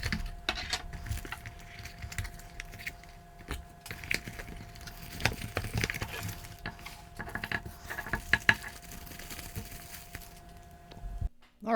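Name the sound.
unboxing a Teckin outdoor smart plug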